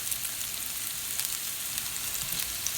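Leftover steak sizzling and frying in a pan as it warms, a steady close crackle with small pops and no talk.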